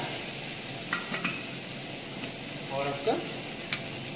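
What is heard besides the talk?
chopped onion frying in hot oil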